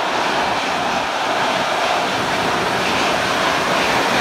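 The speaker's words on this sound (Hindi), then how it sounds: "ये देखो ये कुएं में पानी जा रहा है" Rainwater from the road pouring into a village well after heavy rain: a loud, continuous rushing and splashing roar of falling water, steady throughout without pauses or voices.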